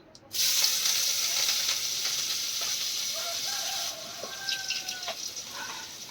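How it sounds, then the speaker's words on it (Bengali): Onion and green chili hit hot oil in a wok, erupting into a loud, steady sizzle that continues alone and eases slightly toward the end with faint clinks. "কড়াই দিয়ে দিচ্ছি পেঁয়াজ, কাঁচা লঙ্কা"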